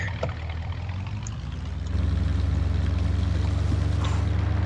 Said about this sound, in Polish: palimy silnik i jedziemy